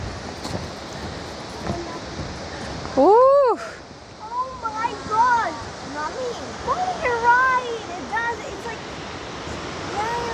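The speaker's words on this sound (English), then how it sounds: "First view is going to be, I think, the big waterfall" A waterfall's steady rushing roar at Plitvice Lakes fills the background, with a few bird calls chirping over it.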